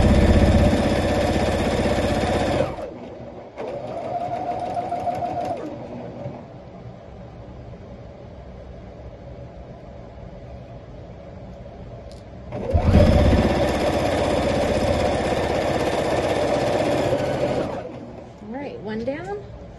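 A sewing machine stitches a giant posy quilt block, its steady mid-pitched motor whir running for a couple of seconds, dropping to quieter hum, then starting again in a longer loud run.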